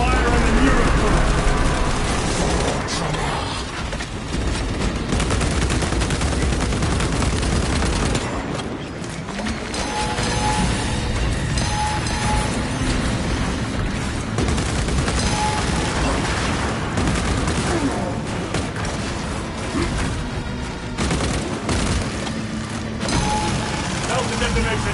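Relentless gunfire and explosions from the video game Space Marine II, a dense, loud barrage of bursts and booms that continues throughout, with voices speaking over the battle.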